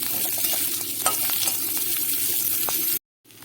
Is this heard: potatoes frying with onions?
yes